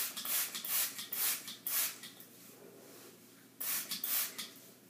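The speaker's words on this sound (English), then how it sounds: "I'm going to spray" Several bursts of a hair spray bottle misting a girl's hair as it is dampened with Rock Your Hair Hot Curls for a ponytail, quick close hissing spritzes in two clusters with a pause between.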